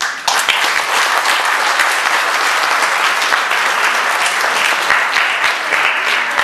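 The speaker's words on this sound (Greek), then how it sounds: "αξίζει ένα μεγαλύτερο χειροκρότημα" Loud, dense audience applause at a sports club's pie-cutting celebration, a sustained wash of clapping with sharper individual claps popping through, close and continuous.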